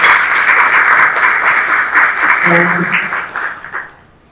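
An audience in Paterson applauds, a dense, loud burst of many hands clapping that holds steady and then fades out toward the end.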